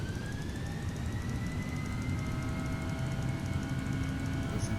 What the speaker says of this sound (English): Oh, those engines sound awesome.